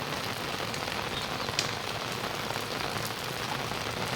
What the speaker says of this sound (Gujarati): વરસાદ પણ પડી રહ્યો છે દોસ્તો।